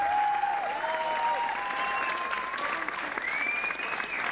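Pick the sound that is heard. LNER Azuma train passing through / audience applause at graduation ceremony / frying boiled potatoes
audience applause at graduation ceremony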